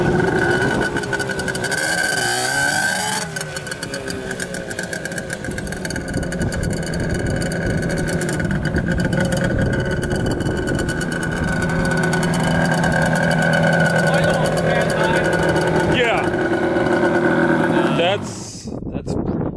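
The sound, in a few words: Yamaha Banshee engine running and revving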